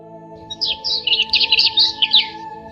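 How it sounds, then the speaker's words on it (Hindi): Small birds chirp in quick, bright twittering bursts, close and clear, over a faint steady hum. "चिड़ियां मीठी आवाज में चहचहा रही थीं।"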